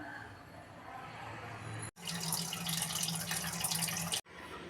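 Red lentils are washed in water, giving steady close splashing and running water that cuts off briefly twice.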